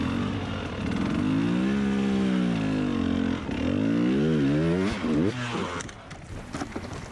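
A hard enduro motorcycle engine on a race course revs up and down close by, with rising and falling pitch sweeps, loud and continuous, easing off toward the end.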